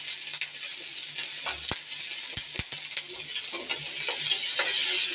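Green chilies, onion and garlic frying in a little oil, a continuous sizzle with scattered sharp clicks and scrapes of a utensil stirring in the pan, growing slightly louder toward the end, no voices.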